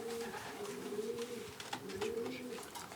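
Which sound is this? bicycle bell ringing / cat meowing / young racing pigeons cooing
young racing pigeons cooing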